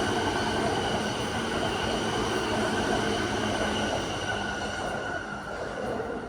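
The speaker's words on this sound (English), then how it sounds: "Train coming. Be green. Be green. Green train." A green commuter train on Tokyo's Yamanote Line rumbles steadily past nearby, a continuous roar of wheels on rails with faint squealing, staying loud throughout.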